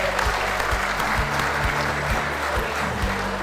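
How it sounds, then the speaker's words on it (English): Conference delegates applauding together in a hall, a steady wash of clapping from a large crowd lasting the whole moment at an even level. "I'd also ask all the delegates to give yourselves a round of applause."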